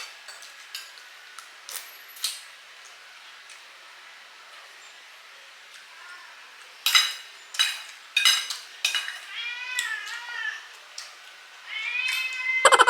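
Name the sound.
cat meowing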